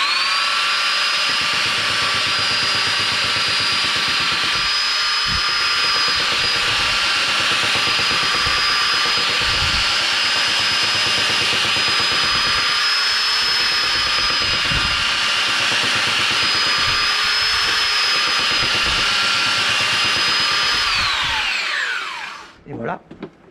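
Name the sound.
planing wood with a planer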